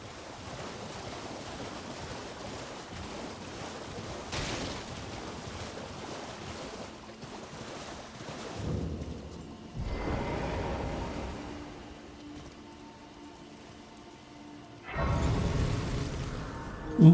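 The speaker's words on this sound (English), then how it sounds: "I do love this fog and the ambience and the noises it makes as you run through the water" Splashing footsteps running through foggy swamp water in Elden Ring, a steady wash of watery noise with ambient wind and surf-like swells, louder surges toward the end, no talking.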